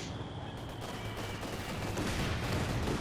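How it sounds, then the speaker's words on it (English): Gunfire from Bren gun sections and mortar fire in a Company of Heroes 2 one-versus-one match: dense, continuous bursts of rattling shots crackling over a broad, noisy battle din, with no voices. "Bit of shooting there."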